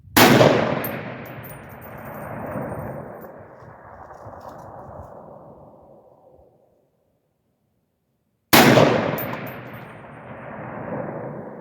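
A Palmetto AR-10 rifle shot rings off a steel target 1,000 yards away, heard as a sharp report with a long fading rumble, then a second identical report after several seconds of silence.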